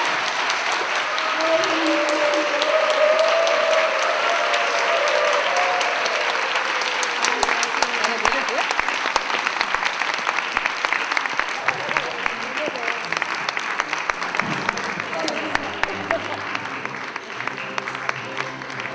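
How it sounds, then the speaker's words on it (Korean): A church audience applauds the pastor's wife at a pastors' wives day event, steady broadband clapping filling the room for nearly twenty seconds, with a voice speaking over it partway through. "우리 사모님께 박수 한번 해주시죠"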